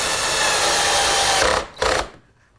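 A power driver sinks screws into a walnut table rail, giving a close, loud, continuous whir followed by a short second burst, then quiet.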